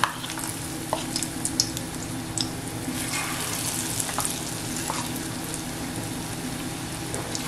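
Chicken pakoda batter fries steadily in hot oil over a medium gas flame, a dense continuous sizzle and crackle with scattered pops, close and fairly loud, with no talking.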